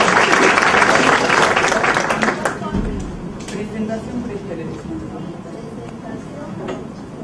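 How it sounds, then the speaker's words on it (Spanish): Audience at a university talk in La Plata gives a welcome round of applause. It is dense and loud at first, then fades to a softer patter over the following seconds. "La recibimos con un aplauso a la mesa."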